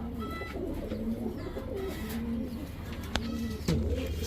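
A pair of black Gorra Giribaz high-flyer pigeons, a male and a female, coo in a bird seller's coop, steady soft low coos repeating throughout at close range, with a couple of sharp clicks near the end.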